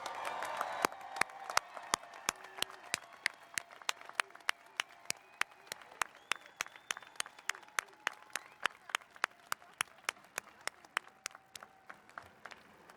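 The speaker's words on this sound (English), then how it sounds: "It's time for another rousing round of applause for all of our graduates" Applause for graduates at a college commencement ceremony, with scattered crowd clapping and sharp, regular individual claps standing out in a steady rhythm throughout, moderately distant in a large venue.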